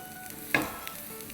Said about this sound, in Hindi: बस अब 30 सेकेंड सौटे करेंगे इनको